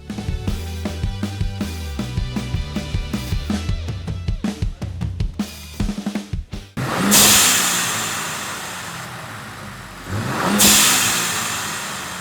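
A Ford Bronco Raptor engine fitted with a new blow-off valve revs hard twice, each loud, broad roar swelling and fading after a stretch of rhythmic music.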